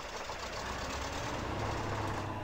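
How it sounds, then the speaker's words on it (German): Truck engine in the offroad simulator game Spintires, a quiet, rough mechanical rumble and clatter running steadily throughout, faint and unaccompanied by talk. "Oh, wir können den Motor starten."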